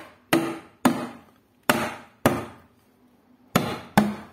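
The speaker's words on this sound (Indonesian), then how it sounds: "Biasanya kami menggunakan palu karet untuk menutupnya" A rubber mallet taps a paint can lid shut, six sharp knocks in loose pairs and singles with short ringing decays and quiet pauses between, close and alone.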